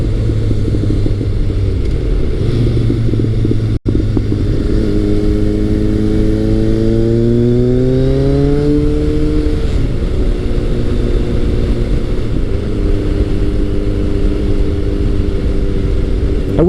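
A Kawasaki ZRX1100 retro motorcycle is being ridden, its engine droning close and loud. It climbs through rising revs, eases off, and then pulls steadily again, all over constant wind rush.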